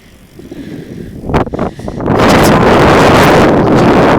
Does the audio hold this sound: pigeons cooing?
no